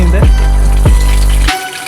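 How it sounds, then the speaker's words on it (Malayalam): Water pours into the wash tub of a 7.5 kg semi-automatic washing machine, a loud steady gush with a couple of knocks before it cuts off abruptly near the end. "ഇത് നമ്മളിപ്പോൾ ഇത് വാഷ് യൂണിറ്റിൽ വെള്ളം നിറയുന്ന സ്പിന്നാണ്"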